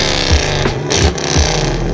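A Camaro engine rumbles loud and close in a short, choppy burst, with deep low pulses repeating roughly every half second like a lumpy idle or quick blips of the throttle.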